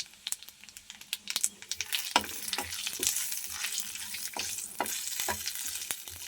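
Cumin seeds and bay leaves crackling in hot oil, a dense sizzle that starts with sharp popping ticks and swells into steady frying with scattered stirring knocks.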